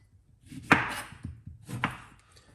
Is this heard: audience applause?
no